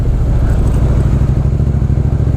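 A Triumph Street Twin motorcycle engine running in reduced-power limp mode gives a loud, steady, close-up drone with a deep, throbbing low rumble and no pauses.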